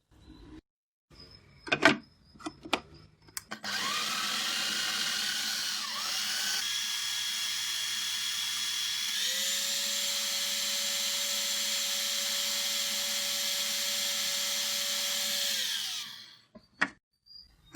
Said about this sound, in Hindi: अब हम बन को छोटा छोटा काट लेंगे और चॉपर में डाल देंगे।